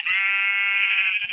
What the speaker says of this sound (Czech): To už tady jsou dvě ovce.